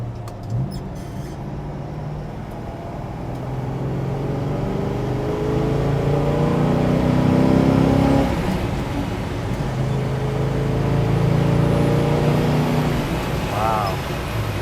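A 1965 Oldsmobile Cutlass 442 with a 4-speed pulls hard at about 60 mph, its engine note rising and swelling steadily from inside the cabin with some wind noise, then briefly easing off near the end.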